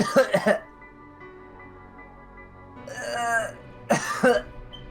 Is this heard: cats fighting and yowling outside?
no